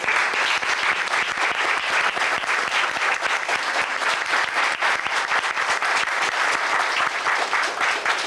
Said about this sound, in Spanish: para quien voy a pedir un gran aplauso, que es Juan Vilta.